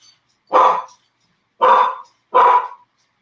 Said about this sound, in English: I got 3 dogs here.